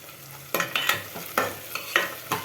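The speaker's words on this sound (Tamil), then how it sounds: "இது நல்லா ஃப்ரை ஆகட்டும்." Sliced okra frying in a pan for sambar, stirred in several quick, evenly spaced scraping strokes over a soft sizzle, close and fairly quiet with no voices.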